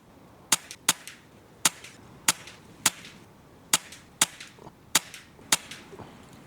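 Air rifle shots crack out one at a time, about a dozen sharp, dry snaps at irregular intervals over a quiet outdoor background, with no voices.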